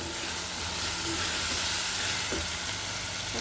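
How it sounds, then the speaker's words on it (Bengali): Shing fish added with tomatoes to spiced oil in a curry pan, frying with a steady, dense sizzle and hiss that holds level throughout, with faint stirring scrapes underneath. "টমেটোর সাথে এক লগে দিয়ে আমি কষিয়ে নিচ্ছি মাছগুলো"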